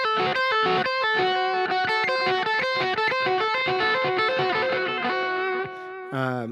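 A crunchy, effects-laden distorted electric guitar plays a run of quick notes before a harsh diminished chord rings out, loud and close with no speech.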